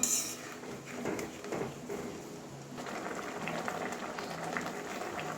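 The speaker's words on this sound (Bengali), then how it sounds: "একটু ভালো করে ফুটিয়ে নেব যেহেতু গুড়টা দিলাম" Mango chutney sweetened with jaggery simmers in a pan, giving a steady, soft bubbling and popping that stays fairly quiet and even throughout, with no talking.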